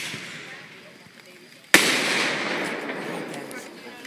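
A single sharp firework burst on the Fourth of July cracks loudly just under two seconds in, then leaves a long, broad rumbling crackle that fades slowly; outdoor background noise fills the quieter lead-in.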